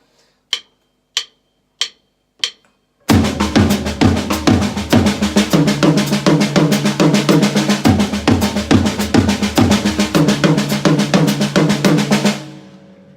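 Four sparse single hits come first, then a fast, continuous drum fill on tom-toms in odd groupings of threes and fives. The strokes are loud, close and evenly driving, and the fill runs for about nine seconds before stopping.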